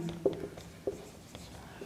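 A marker or chalk taps and scrapes on a board during a maths lesson. There are two distinct strokes and a few lighter touches, close and fairly faint, under quiet room tone.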